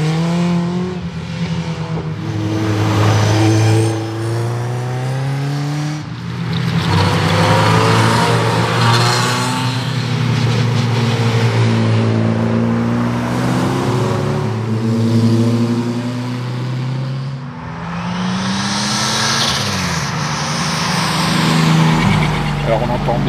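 A 2.5-litre turbocharged inline six-cylinder car engine revs up and down repeatedly at a track event, loud and close, with someone talking over much of it.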